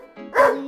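A dog lets out a single short, sharp bark, close and loud, rising from a low growly onset into a bright yelp and tailing off quickly.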